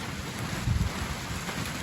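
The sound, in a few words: heavy rain falling outdoors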